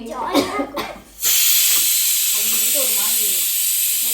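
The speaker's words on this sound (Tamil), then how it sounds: "இந்த பக்கம் நல்லா வறுத்துக்கிட்டு இருக்கேன்" Cheese balls frying in a pan, a steady close hiss and sizzle that rises sharply after a short stretch of talk and keeps going, with a voice speaking faintly over it.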